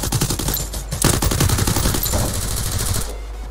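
Rapid automatic gunfire from the Free Fire game, played on PC through an emulator, rattles loud and close in a continuous burst that cuts off near the end.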